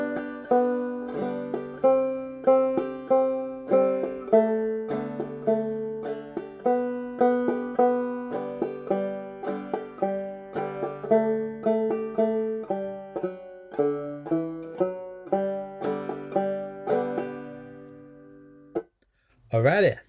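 Clawhammer banjo picks out the Bingo melody at a slow, steady pace, each plucked note and strum decaying in a clear rhythmic pattern, played alone with a brief noise at the very end.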